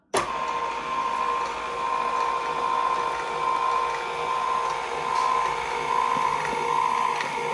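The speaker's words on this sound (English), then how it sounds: "You don't want to run the mixer on high." An electric mixer hums steadily on low speed, whipping the cream filling for a Polish papal cream cake, a continuous close motor drone with no talking.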